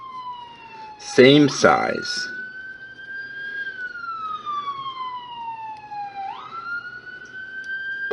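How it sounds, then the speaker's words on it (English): A wailing emergency vehicle siren sweeps up and down outside on a Washington, D.C. street, moderately distant and steady, while a person indoors says a few words early on. "Pardon the sirens, I live in Washington, D.C."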